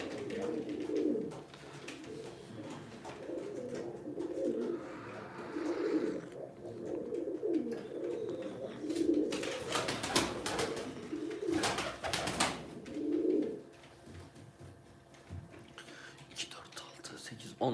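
Pigeons coo softly in low, repeated murmurs close by at a bird auction in Ankara, with occasional quiet background noises and a brief louder rustle partway through.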